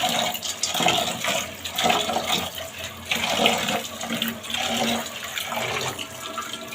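Tap water runs steadily while soaked masoor lentils are rinsed, a continuous close splashing and gushing with no pauses and no talking.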